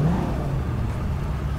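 A car engine in the video game GTA 5 holds a steady, loud, rumbling drone close up, with no speech over it.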